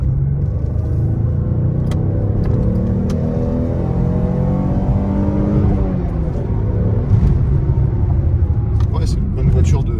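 A 1995 Peugeot 406 V6 engine revs hard on a test drive, its pitch climbing smoothly through the gears with a loud rumbling drone heard from inside the car, while someone talks over it.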